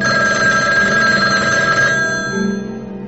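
A telephone bell rings loudly and continuously in a film trailer, a bright metallic trill that fades after about two seconds into a softer tail.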